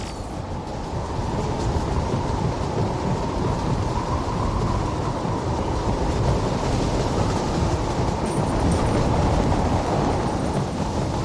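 A train rumbling along in Metal Gear Rising: Revengeance, a steady loud low roar of wheels and rail noise that holds without a break, with no voices over it.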